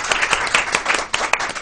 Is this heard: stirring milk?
no